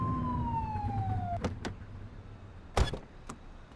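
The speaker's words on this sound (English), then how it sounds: "Get behind them and flip the siren to make them pull over." Police car siren in The Precinct video game, a single wailing tone that sweeps slowly downward and cuts off after about a second and a half, followed by a few sharp clunks with no talking.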